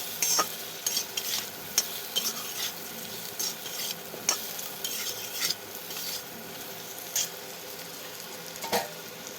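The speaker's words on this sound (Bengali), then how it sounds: "লঙ্কা, হলুদ, জিরে আর ধনে দিয়ে এটা ভালো করে মেশাবো" Ground chili, turmeric, cumin and coriander being stirred in a pan, with a steady soft sizzle under repeated scraping strokes and occasional sharper utensil clinks, close and moderately loud, no talking.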